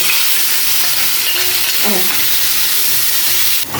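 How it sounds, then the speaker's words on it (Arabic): Grated tomatoes sizzle and spit in hot oil and ghee with kebab juices while being stirred in a pan, a steady loud frying hiss with a few scraping stirs. "شوحي بقى الطماطم مع الصوص اللي نازل من الكباب والسمنه والزيت"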